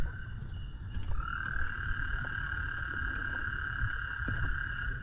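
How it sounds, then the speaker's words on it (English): A small frog or toad calls with a steady high trill that runs almost unbroken, over a dense outdoor bed of other frogs and insects on a summer walk in Dallas; no one speaks. "That little bitty frog is what's making, or that little toad is what's making all that noise."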